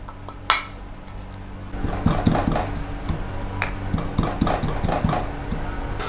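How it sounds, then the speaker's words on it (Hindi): Roasted spices being coarsely pounded in a metal mortar and pestle: a steady series of sharp metallic clinks and thuds, close and fairly loud, repeating in an uneven rhythm over a faint background hum. "अब इसको हम दरदरा सा पीस लेंगे अपने इस"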